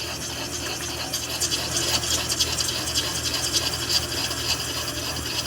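Hornady Cam Lock case trimmer cutting a 450 Bushmaster brass case, a steady close grinding, rasping scrape with a faint ratcheting texture that runs continuously without pause.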